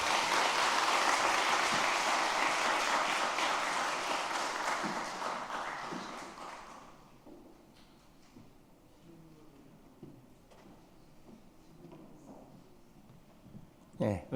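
Audience applause after a lecture at a church seminar, loud and continuous for about seven seconds before tapering away into a quiet room with faint murmuring.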